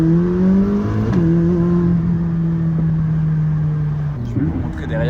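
A McLaren supercar's engine drones loud and close from inside the car at night, holding a steady, slightly rising pitch with a brief shift and a few crackles near the end, while someone talks over it.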